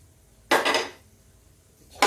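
Spoon stirring coriander stems into dry-cooked tindora (ivy gourd) vegetables in a metal pan, a half-second metallic scraping clatter, then a pause and another short scrape starting, close.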